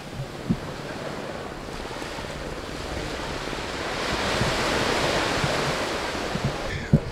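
Waves wash onto a stony beach on Koh Samui, Thailand, in a steady, continuous surf that swells louder midway, with wind buffeting the microphone and no voices.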